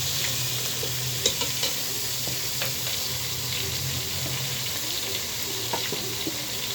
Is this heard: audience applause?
no